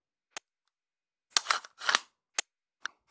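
An AR9 rifle is dry-fired during laser training, giving isolated sharp mechanical clicks. In the middle come two longer scraping clacks as the bolt is charged, then a few more quick clicks against a silent background.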